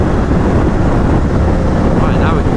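A 2011 Honda CBR1000RR Fireblade ridden on the road, its engine drone largely buried under heavy, constant wind roar buffeting a helmet or bike-mounted camera, loud and unbroken throughout.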